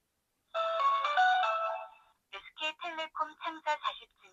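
A KOSPET Tank T3 Ultra smartwatch rings for an outgoing phone call: a sustained tonal ring for about a second and a half, a brief pause, then a rapid series of short chirping ringtone bursts, close and clear, with no talking.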